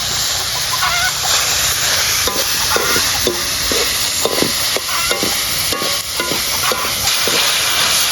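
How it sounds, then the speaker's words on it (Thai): Wild boar is stir-fried with spices in a wok, a loud, constant sizzle with repeated scraping stirs, and faint clucking fowl in the background. "ผัดเผ็ดแบบผัดชาหมูป่าของเรานะคะ"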